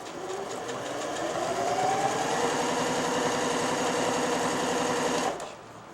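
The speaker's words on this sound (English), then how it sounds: "that's the machine ready for sewing again" A Janome Gem Platinum 760 sewing machine runs at a steady, even speed with a continuous whirring mechanical hum and rapid needle rhythm, close and loud, then stops abruptly near the end.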